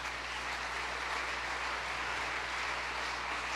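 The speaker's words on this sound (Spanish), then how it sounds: "Denle un aplauso fuerte al Señor, hermano" A church congregation claps steadily in praise during a worship service, a dense, even wash of applause that continues without pause and without voices.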